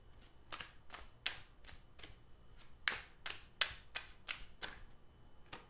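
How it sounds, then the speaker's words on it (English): Tarot cards are shuffled and handled in a quiet room, giving a series of crisp, close slapping riffles spaced irregularly, about a dozen distinct bursts, with no talking. "While they chat, I'm going to pull some cards."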